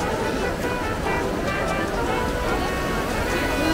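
A busy Trevi Fountain in Rome on a Monday morning, with the steady rush of falling water blending into constant crowd chatter, loud and unbroken throughout.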